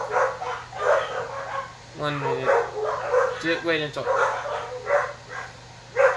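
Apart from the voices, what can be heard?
dogs barking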